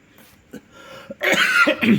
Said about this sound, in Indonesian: Mohon maaf, agak batuk.